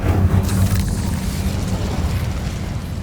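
A roaring whoosh of flame from the Incendio fire spell cast in Hogwarts Legacy, loud and rumbling at first, then settling into a steady crackling burn that fades slightly.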